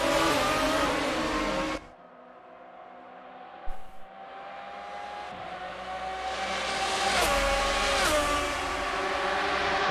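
Racing engines in Assetto Corsa at Homestead Miami, GT cars running side by side into a hairpin; a steady engine drone with rising pitch sweeps as cars accelerate, continuous and fairly loud, with no talk.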